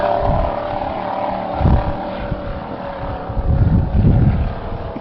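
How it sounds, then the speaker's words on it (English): Racing powerboat engines roaring at a motorboat race as boats leap from the water, a loud continuous drone with wind buffeting and surging bursts as the propellers break free. "you can hear the engines as they come out of the water,"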